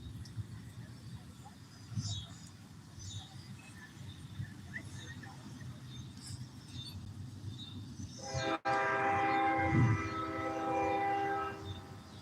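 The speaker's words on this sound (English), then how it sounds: "I hear the train a-coming, it's rolling down the track" A train rolls past on the track at Burr Park, a steady rumble for several seconds, then a loud, sustained horn blast near the end; no one talks.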